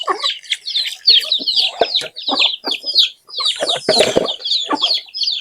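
Several chickens cluck and squawk continuously up close, busy overlapping calls with occasional wing flaps and scuffling.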